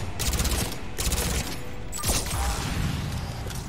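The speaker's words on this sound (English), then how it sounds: "I've got fire explosions for everybody." Rapid bursts of explosions and gunfire in Mass Effect 3 combat, a dense crackling fusillade with sharp repeated blasts at close range, loud and busy throughout.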